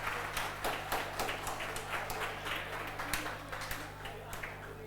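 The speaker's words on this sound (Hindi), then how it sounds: "ए बेला ताली बजा रहा है" Scattered claps ring out from one person in a classroom, sharp and irregular, over a steady low electrical hum and faint room noise.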